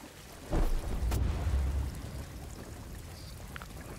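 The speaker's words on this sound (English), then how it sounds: "I need to stop the, the rain first." Rain and a thunder rumble in the Star Wars Jedi: Fallen Order video game, with a low roll swelling after a sharp crack and settling into a steady wash of rain, no voices.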